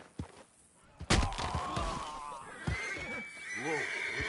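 In Red Dead Redemption 2, a horse neighs loudly after a sharp thump, with hooves and a person speaking briefly nearby.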